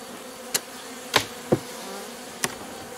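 Honeybees buzz in a steady, close drone at an opened Layens hive in a wooded apiary, broken by a few sharp knocks from handling the frames.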